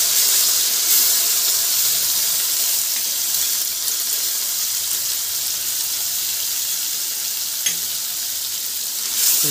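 A pounded masala of coriander, green chilli, garlic and salt fries in a pan with a strong, steady, close sizzle that runs unbroken throughout, with no voices.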